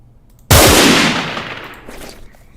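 A single loud gunshot from a PvP gun in Minecraft, a sharp close blast followed by a long fading echo tail that dies away over about two seconds.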